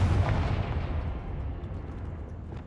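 The Confringo fire spell explodes in Hogwarts Legacy: a single heavy boom that rumbles, then slowly fades out over a couple of seconds.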